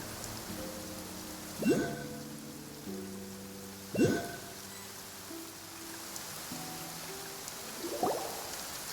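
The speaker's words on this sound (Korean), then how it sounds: "그러고 보니 요즘 계속 비가 내리네" Rain falls steadily in Genshin Impact, a soft constant hiss heard alongside in-game music notes and a few brief swelling chimes.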